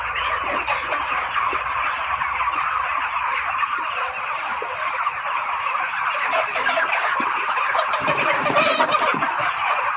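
Dense poultry shed full of broiler chickens raised for fast weight gain, a continuous loud chorus of clucking and gobble-like calls filling the whole stretch with no voices.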